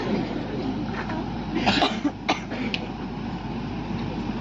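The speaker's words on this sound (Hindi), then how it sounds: "खांसी आ रही ना बीच बीच में" A man coughs partway through a youth seminar. The brief, sharp throat bursts cluster in the middle of the clip over a steady background hum, and no one speaks.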